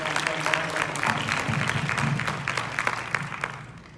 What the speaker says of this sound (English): So just a round of applause for Lisa May